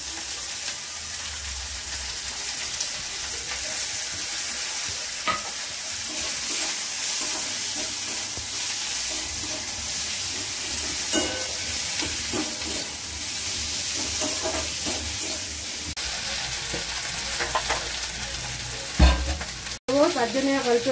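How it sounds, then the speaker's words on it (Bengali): Whole cumin seeds and torn bay leaf pieces sizzle steadily in hot oil for a Bengali tempering, a continuous close frying hiss with occasional stirring clicks and no talk. "এবার তেজপাতা দিয়ে দেবো ফোড়নে।"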